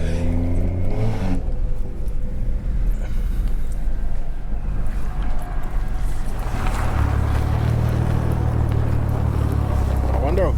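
Engine intake of a tuned 500 hp BMW 340i on a drive, a steady low drone that swells into a louder, deeper surge of acceleration in the final few seconds.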